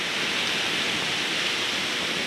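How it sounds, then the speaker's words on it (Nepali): Steady, loud rush of rain falling on a rainy day in Sikkim, a continuous hiss with no breaks and no voices. "पानी परि नै रहेको छ"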